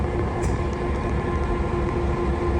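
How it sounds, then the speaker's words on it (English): A locomotive idles and rumbles on the railroad, a steady, loud, continuous engine drone with a constant hum, no voices. "we're going to line this locomotive up for track number 2"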